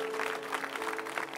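A church congregation applauds the Lord during a French-language worship service, a steady, dense wash of clapping with a faint sustained tone beneath it and no pause.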